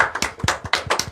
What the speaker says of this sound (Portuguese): Uma salva de palmas para a Jéssica